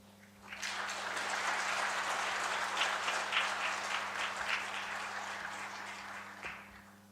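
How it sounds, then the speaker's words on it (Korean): A church congregation claps warmly to welcome an elder coming forward to give testimony, steady dense applause that swells in and continues for several seconds before tapering, over a low electrical hum. "나오실 때 뜨거운 박수로 맞이하겠습니다"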